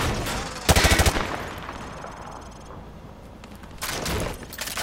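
Automatic rifle bursts from Call of Duty Modern Warfare 2 Remastered training range, a loud rapid burst early, scattered shots after, and another sustained burst near the end, firing through light cover.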